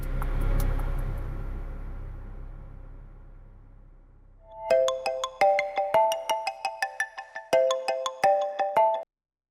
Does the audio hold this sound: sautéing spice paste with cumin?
no